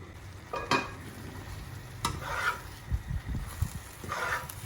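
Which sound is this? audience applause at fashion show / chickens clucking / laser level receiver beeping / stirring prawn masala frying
stirring prawn masala frying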